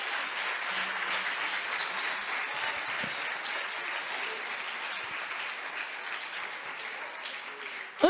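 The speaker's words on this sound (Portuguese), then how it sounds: "Você consegue aplaudir ao Senhor pela sua palavra agora" A church congregation applauds, with dense, sustained clapping that holds steady and fairly loud for about eight seconds and ends with a brief louder burst.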